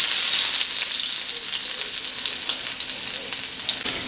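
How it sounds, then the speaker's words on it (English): Garlic and ginger fry in hot oil in a pan, giving a bright, dense sizzle that stays loud and close, with faint crackles and stirring throughout. "Saute it nicely."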